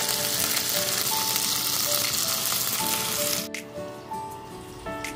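Chicken pieces frying in oil for garlic black pepper chicken, a loud steady close sizzle and crackle that drops off near the end with a brief stir or clink.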